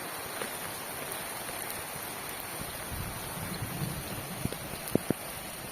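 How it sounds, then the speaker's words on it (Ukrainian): Steady light rain patters in a flower garden, a soft continuous hiss with a few louder drips near the end. "Дощик іде, я вам знімаю"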